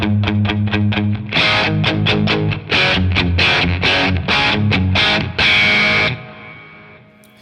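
An electric guitar played through an Origin Effects Revival Drive Compact overdrive with the low end turned down: a run of tight, punchy distorted chords, first quick picked stabs, then sustained strums, loud and alone before ringing out.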